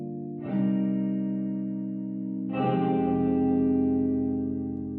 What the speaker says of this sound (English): The room module is a special effect reproducing an Old Room Reverb.